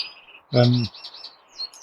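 Small birds in an indoor aviary in a home bird room give high, thin chirps and tweets throughout, with a short, louder voice-like burst near the start.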